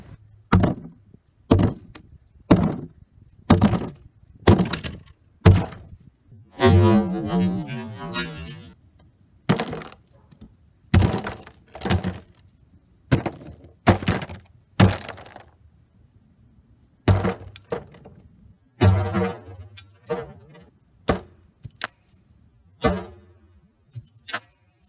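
Homemade scrap weapon hitting a solid block of ice over five inches thick, a long series of loud hard blows at a steady pace, each one a sharp crack with a short tail.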